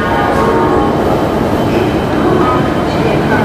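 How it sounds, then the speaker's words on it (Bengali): An express train pulls into a station platform, producing a loud, dense, unbroken roar of wheels and coaches passing close by. "গাড়ি ঢুকছে এবার"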